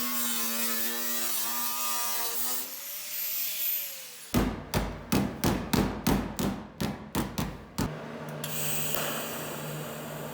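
Hammer on a welded wheel arch panel of a Volvo Amazon body on a Mercedes CLK320, about a dozen sharp metallic blows in a quick rhythmic run, with a humming tool tone before and after.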